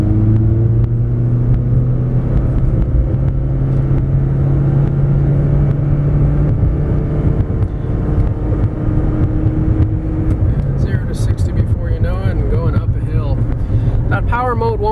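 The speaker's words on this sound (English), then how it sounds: "Do a 0 to 60 run going up a hill with the AC blasting." A 2013 Toyota Prius accelerates hard from 0 to 60 up a hill with the air conditioning blasting, giving a loud, steady engine rumble with rising drone and wind buffeting. A voice joins near the end.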